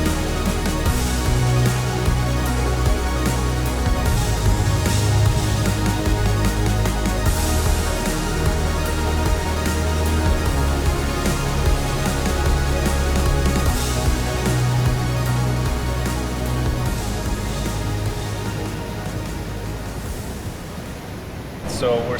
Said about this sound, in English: So we're sitting at the head of the Curtain Falls. You can probably hear it in the background.